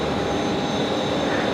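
An aircraft on final approach to runway 01 right at Brisbane Airport at night makes a loud, steady engine roar that fills the short stretch without letting up.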